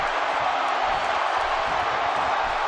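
A wrestling crowd cheers in WWE 2K18 during an RVD versus Xavier Woods match, a loud, steady roar of arena noise filling the space without letting up.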